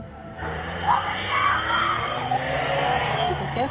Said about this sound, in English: screams are heard as a woman pleads for help from those outside